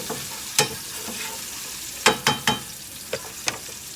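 Onions sizzling in a pan with salt, stirred with a utensil that gives several distinct scrapes and taps against the pan over a steady fry.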